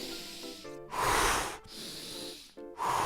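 A voice imitates heavy breathing during an exercise class: loud, close hissing exhales and wheezy, snorting breaths in a rough rhythm, with short pauses between gusts.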